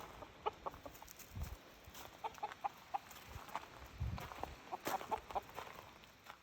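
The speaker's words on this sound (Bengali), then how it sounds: "মুরগির ডিম নেওয়া হয়ে গেছে দেখে মুরগি ডাকাডাকি শুরু করেছে।" Hens in a backyard coop cluck and squawk after their eggs are collected, a scatter of quiet, irregular calls at moderate distance over soft background noise.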